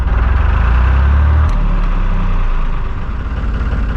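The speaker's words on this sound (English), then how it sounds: "start the engine" A narrowboat's diesel engine at a canal mooring near Market Drayton runs loud and close, a heavy low rumble that thumps strongly at first as it is revved, then eases down into a steadier idle.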